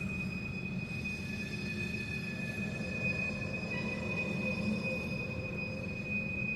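Quiet, steady low rumble of a passing Union Railroad freight train with four locomotives, thin high whining tones above it, distant and unchanging, no voices.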